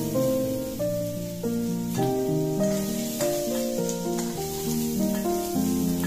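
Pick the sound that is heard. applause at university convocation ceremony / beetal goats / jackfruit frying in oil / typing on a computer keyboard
jackfruit frying in oil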